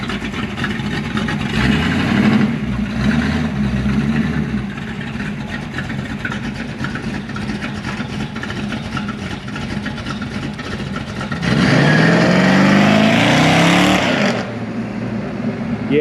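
A Chevrolet Malibu with a street-tuned small-block engine drives along, its steady engine drone loud and close, swelling into a harder pull near the end before easing back.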